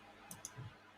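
Two sharp, quiet computer mouse clicks in quick succession, close to the mic, over low background hum with a faint low thump after them.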